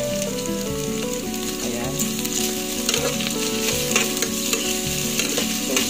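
Red onion and ginger sauté in a pot with a loud, constant sizzle and stirring, a steady tonal hum running underneath and a brief spoken word.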